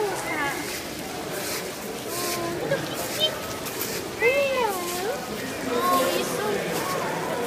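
A soaking wet cat, drenched in a thunderstorm in Florence, gives several plaintive, wavering meows over a steady rushing background with some voices.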